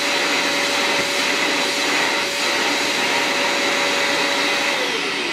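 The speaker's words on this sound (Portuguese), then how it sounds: "estamos aspirando a cama da Mariana" A vacuum cleaner runs steadily on a child's bed in a bedroom, a loud continuous motor whine with airflow hiss that holds for the whole stretch and dips slightly near the end.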